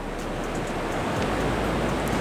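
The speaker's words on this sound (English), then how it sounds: "Look at that water coming at my feet." Ocean surf washes up around someone's feet at a beach, a steady loud rushing hiss of water with some wind buffeting the microphone throughout.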